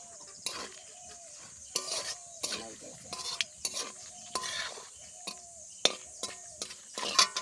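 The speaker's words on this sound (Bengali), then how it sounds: "একটু ফোড়নে গোটা জিরা দিয়ে দিলাম শুকনো" Whole cumin seeds sizzle in hot oil in a pan, heard as a crackling fry broken by frequent sharp clinks and scrapes of a metal spoon against the pan, close and irregular.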